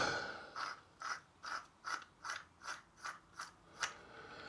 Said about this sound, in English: screw it onto there like so